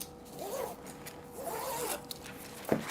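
A blade is drawn through material on a cutting mat while making a slipcase, giving a few close, rasping slicing strokes spaced about a second apart, ending in a sharper scrape.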